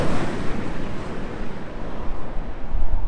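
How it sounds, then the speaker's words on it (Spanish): An electric 2019 Jaguar I-Pace passes on a road in Portugal with no engine note, only a broad rushing whoosh of wind and tyre noise that swells toward the end. "Obviamente el viento es lo que hace que se escuche ese ruido cuando pasó."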